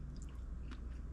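Someone bites into and chews a soft, moist basil bagel, a faint close-up soft crunch followed by quiet chewing with no talk.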